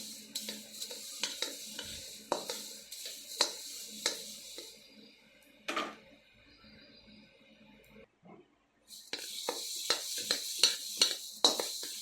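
Ingredients for curry leaves powder roast in a pan over a medium flame, sizzling softly while a utensil scrapes and stirs in repeated strokes, near and moderately loud, with a brief quiet gap before the stirring resumes.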